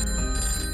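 A telephone rings in a promo for a farmers' phone-in advice show: a loud, continuous bell-like ring fills the whole short moment with no speech over it.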